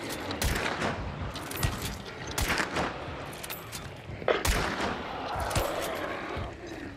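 Gunfire in the video game Hunt: Showdown: a steady run of shots and heavy bursts layered over dense rumbling noise, with louder cracks around the middle and near the end, mixed with faint voices.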